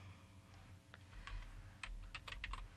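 A computer keyboard being typed on, a short run of close, crisp keystrokes that starts sparse and quickens into a burst of clicks, with no voices.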